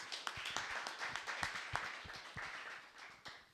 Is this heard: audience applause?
yes